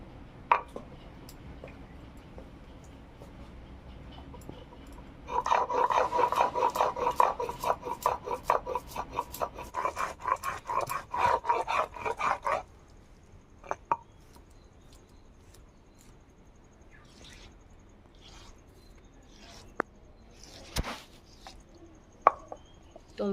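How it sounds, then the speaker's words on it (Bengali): White and black mustard seeds with poppy seeds are ground into a paste for a vegetarian pointed gourd dish, giving a stretch of rapid rhythmic scraping and knocking strokes, then quieter scattered taps and clatter. "সাদা সর্ষে, কালো সর্ষে, এগুলো আমি সব পিষে নেব।"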